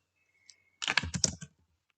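A computer keyboard is typed on while entering spreadsheet text: a quick close burst of about six or seven clicks after a single earlier tap, with quiet room tone around it.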